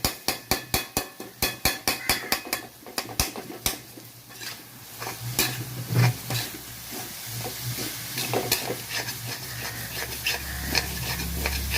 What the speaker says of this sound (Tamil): அடி பிடிக்க விடாமல் நல்லா கிளறி விட்டுக்கிட்டே இருக்கணும்.